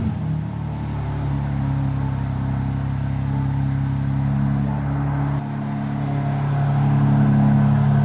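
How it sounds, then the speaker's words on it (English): A BMW G82 M4 with a manual gearbox and titanium Valvemaster exhaust idles high and steady after a cold start, a loud, droning rumble that dips briefly before settling back in. "This is the cold start on this car."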